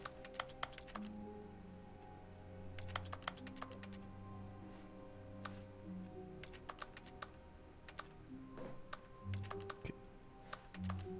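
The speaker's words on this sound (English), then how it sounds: "If I push the A button, it like sounds like I'm clicking keyboard." Bursts of keyboard-like clicking triggered by pressing the A button in The Stanley Parable video game, coming in quick clusters of sharp taps with pauses between, over a low steady hum.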